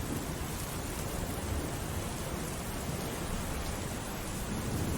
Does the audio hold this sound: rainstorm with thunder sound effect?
yes